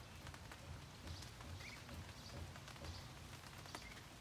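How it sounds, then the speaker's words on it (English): Rain falls outdoors as a faint, steady patter with scattered drips on nearby surfaces, quiet and even throughout. "It's raining outside and Kumba took me outside for no reason."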